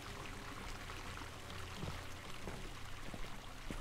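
Water pours steadily into a bucket in the video game Eleusis, a dense continuous rushing splash that stays loud and even throughout.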